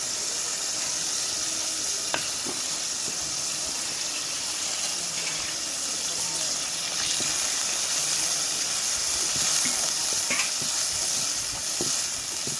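Spice paste sizzling in a pan while duck curry is sautéed: a continuous close hiss and crackle with occasional stirring scrapes, steady throughout.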